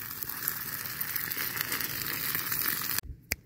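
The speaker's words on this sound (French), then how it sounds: "Donc moi, ça mijote gentiment" Food simmering in a pan beside a caravan makes a steady, dense hiss that runs close and even for about three seconds, then cuts off abruptly, leaving a couple of faint ticks.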